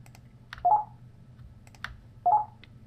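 Two short computer keyboard key presses, each followed closely by a mouse click, come in two separate bursts over a low steady background hum with no talking.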